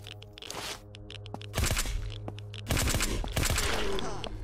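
A zombie bursts apart after being shot in the survival shooter Infestation, giving wet crunching blasts among repeated gunfire-like bangs, loud and close over steady game music.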